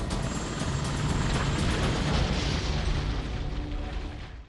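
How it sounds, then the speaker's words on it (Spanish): A Black Hawk helicopter slams into pine trees at night, a loud sustained crashing roar of impact and breaking debris that fades out at the end, with no voices. "El helicóptero se estrella con fuerza contra los árboles."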